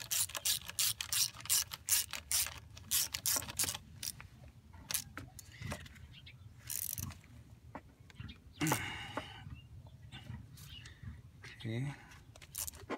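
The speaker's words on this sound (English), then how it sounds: "I'm tightening this coolant line now." Rapid ratchet clicks in repeated bursts as a coolant line is tightened on a BMW 535i during an oil cooler housing gasket job, close and fairly loud, with a few metallic clinks and some talk in between.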